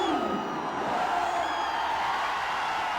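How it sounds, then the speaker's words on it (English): A large, partisan crowd cheers and roars continuously at a cricket match in Chennai, a dense, steady wall of sound with whoops rising over it throughout. "Very partisan crowd here."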